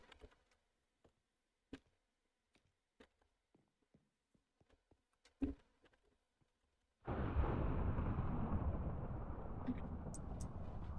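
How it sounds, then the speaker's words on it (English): Sand fireworks going off in Minecraft: a sudden sustained roaring burst of noise that fills the back part of the clip, preceded by sparse faint clicks and taps. "sand fireworks."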